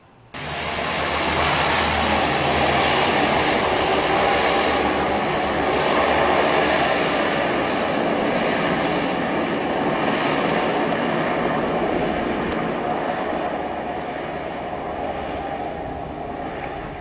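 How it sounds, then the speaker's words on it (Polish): Low-flying firefighting flying boat aircraft roar overhead in Croatia, a loud, sustained engine drone that swells in quickly, holds steady, and eases slightly toward the end. "Rano obudził nas głośny warkot nisko latających samolotów."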